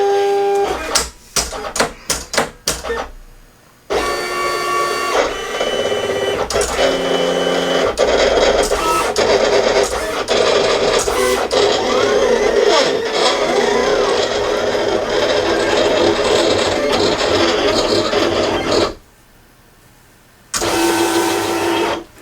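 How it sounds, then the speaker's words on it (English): A printer cutter machine running a job on heat transfer vinyl for homemade merchandise, giving a loud, busy mechanical whir with stuttering motor bursts and carriage movements that carry on steadily before a short pause and restart. "you hit send, and this thing goes off to the races"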